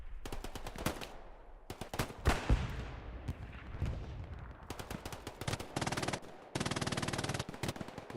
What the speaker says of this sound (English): We got MGs galore being set up.